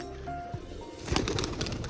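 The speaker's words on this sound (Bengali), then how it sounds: "আমার বাড়ির একটা ওড়া পায়রা, খুব ভালো ওড়া এটা" A flying pigeon coos softly at close range, a low throaty burble, followed by a brief rustle that may be wing movement, against a quiet room.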